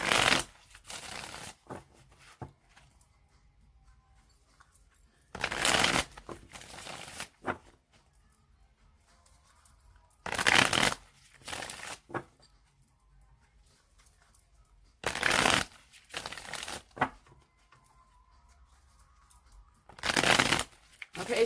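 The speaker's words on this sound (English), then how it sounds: "I'm going to shuffle them 3 more times" Tarot cards shuffled in five quick riffled bursts, each about two seconds long, separated by near-silent pauses.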